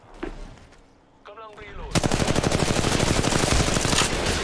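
Automatic gunfire in a ranked online shooter game: a brief burst, then a long, loud and rapid stream of machine-gun shots, heard up close.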